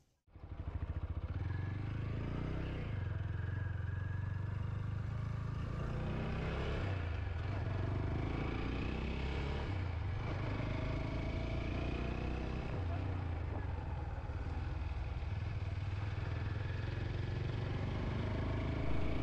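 A motorcycle engine rumbles steadily throughout as the bike rides along, with wind noise and faint rattling over the continuous drone.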